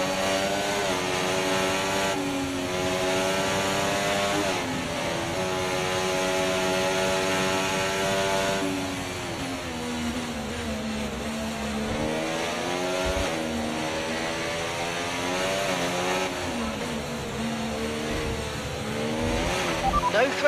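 A Formula 1 car in a racing video game drones steadily through a formation lap on the Baku street circuit, its high-pitched engine held near constant with gentle rises and falls in revs, loud and close for the whole stretch.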